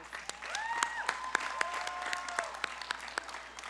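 Applause for honor graduates at a Berkner High School graduation ceremony, a soft, distant spread of clapping across a large crowd with a few sharper individual claps standing out and faint tonal sounds drifting over it.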